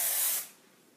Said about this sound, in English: Spray it a little bit.